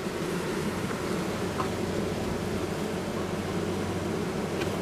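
Honeybees of a bee colony inside a hive make a steady, dense buzzing hum that stays close and even throughout, with no voices.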